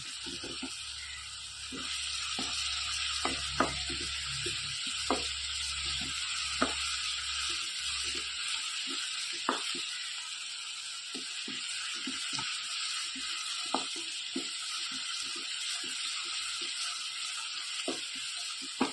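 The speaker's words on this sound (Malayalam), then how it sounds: "ഇത് നന്നായിട്ട് വെളുത്തുള്ളിൻ്റെയും ഇഞ്ചിൻ്റെയും പച്ചമുളകിൻ്റെ ഒക്കെ പച്ചമണം മാറുന്നത് വരെ നന്നായിട്ട് ഇളക്കി യോജിപ്പിക്കുക" Garlic, ginger and green chilli sizzle steadily in hot oil for a chicken curry, a constant close hiss broken by frequent sharp scrapes and clicks of stirring.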